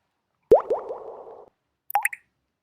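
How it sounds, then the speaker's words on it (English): An oil-drop sound effect added in an editing app: a sharp liquid plop followed by a few quickly fading bubbly echoes, then a short pause and a brighter pair of quick drip blips, clean against silence. "another sound effect, and here is the drop of oil"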